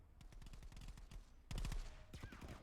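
Rapid bursts of automatic gunfire and single shots from several directions in the VR shooter Contractors VR, dense and loud throughout, growing heavier partway through, with no talking.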